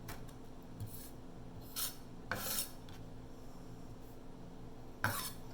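Rada dicer knife rocked on a cutting board, several short knocking and scraping taps spaced irregularly over a quiet background.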